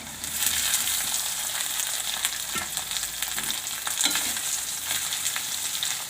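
Potatoes frying in a pan with ginger, a dense continuous sizzle with occasional stirring scrapes and light crunches, close and steady throughout.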